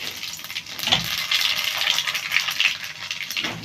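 Nigella seeds and ridge gourd fry in hot oil, a continuous close, bright sizzle and hiss with faint stirring, with no talk over it.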